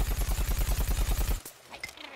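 Ball launcher weapon in Plants vs Zombies Garden Warfare firing a rapid burst of about a dozen evenly spaced loud shots, then stopping abruptly, followed by faint scattered game effects.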